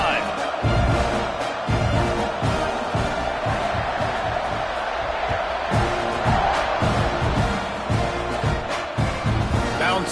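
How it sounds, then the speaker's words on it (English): Stadium crowd roaring and cheering in a college football video game, Texas at Texas A&M, as the kickoff unit takes the field; a steady, loud crowd bed runs throughout under commentary voices. "this crowd is feeling themselves after that last drive."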